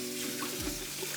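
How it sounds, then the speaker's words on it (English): Cold tap water runs steadily into a pot in a home kitchen, a continuous close splashing hiss with a slight deepening as the pot fills, heard alone. "Put a little water in here,"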